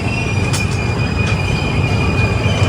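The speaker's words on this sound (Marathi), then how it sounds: "मित्रांनो आता वसईवरून निघाले आपली ट्रेन" A train pulling out of Vasai station on the Mumbai route, wheels squealing with a sustained high metallic whine over a loud, close, continuous rumble of rolling railcars.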